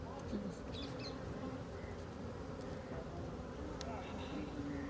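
Honey bees buzz in a dense, steady drone around an opened wooden beehive during an apiculture session, with faint voices in the background.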